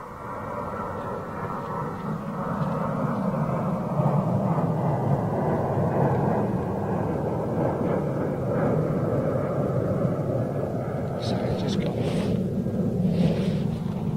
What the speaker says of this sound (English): Qatar freighter rolling.